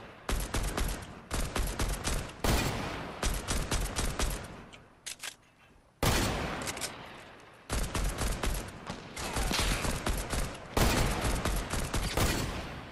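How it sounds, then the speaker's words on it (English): Fortnite Battle Royale gunfire, loud close bursts of rapid shots in repeated volleys, broken by short pauses and a few isolated sharp cracks. "we're getting shot at the side"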